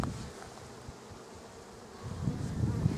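Honey bees hum softly at a hive during a queen introduction, a faint, steady drone that swells slightly toward the end.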